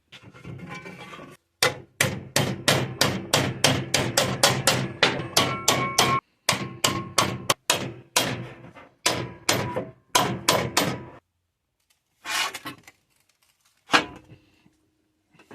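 Sheet metal edges for a homemade pulsejet are hammered over a 2x4 at a workbench, giving loud, sharp metallic blows in quick steady runs, then pauses, then a few scattered final strikes.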